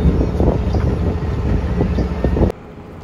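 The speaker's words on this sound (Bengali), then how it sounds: "এই যে এখান থেকে আমাদের লঞ্চ ছেড়ে দিল।" A passenger launch pulls away on a river near Barisal, bound for Bhola, with a loud steady engine rumble and wind buffeting the microphone that drops off abruptly near the end.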